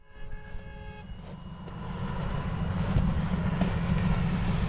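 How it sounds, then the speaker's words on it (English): A vehicle horn sounds in the woods as a sustained tone at the start, then fades as a low engine rumble builds steadily louder. "Look who this asshole honking his horn in the woods."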